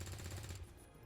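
Gunfire in XCOM 2, a short rattling burst of rapid shots at low level that fades quickly.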